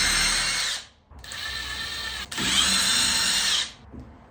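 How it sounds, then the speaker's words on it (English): A power drill bores pilot holes through a clamped board in three bursts: a steady high whine for under a second, a brief stop, then two longer runs with a small dip between them before it spins down. "let's go ahead and do our pilot holes, obviously in different spots than my original holes"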